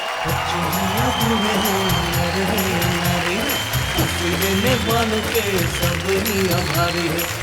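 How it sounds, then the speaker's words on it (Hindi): Crowd applause and cheering at a Hindi comic poetry show swell under a loud, continuous voice and music-like tones, the clapping blended into a busy, boisterous mix. "हम जोरदार तालियां बजाएंगे"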